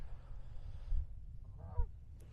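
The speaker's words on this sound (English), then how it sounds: "I got geese flying by." Geese honking as they fly past outdoors at sunset, a few calls rising in the middle of the clip over low wind rumble, fairly distant and moderately loud.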